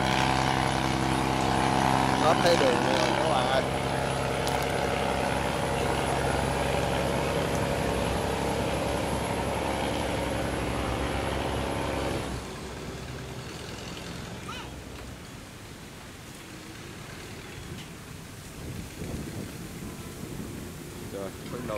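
A rice boat's engine drones loud and steady as it passes on a river near a barge, then drops abruptly to a quieter rumble. Someone talks over it.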